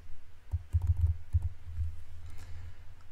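Typing a stock ticker on a computer keyboard for a trading platform, a short burst of soft, dull key taps close by, with no talking.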